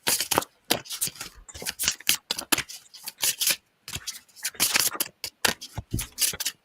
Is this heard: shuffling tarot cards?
yes